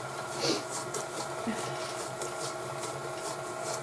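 Stand mixer running while mixing corn muffin batter, a steady whirring motor drone with faint rhythmic churning, moderately loud and continuous, with a person talking over it.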